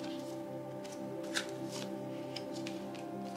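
Oracle cards being shuffled for a tarot-style reading, giving a steady close riffle and slide of cards throughout with a slightly sharper snap partway through. No one speaks.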